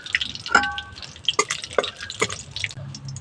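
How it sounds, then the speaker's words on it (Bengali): Whole garam masala of cardamom, cloves and cinnamon hits hot oil, giving sparse crackles and pops with a few sharp spits, close up and without voices. "ফোনে দিচ্ছি গোটা গরম মশলা দুটো এলাচ লবঙ্গ আর দারচিনি"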